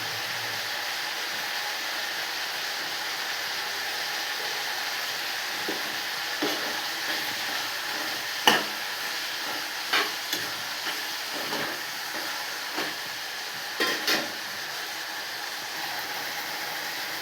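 Tomatoes sautéing in a pan with salt added, giving a steady, close sizzle, with a spatula scraping and stirring in a handful of light strokes over the frying; no voices.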